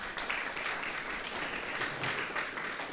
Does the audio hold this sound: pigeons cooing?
no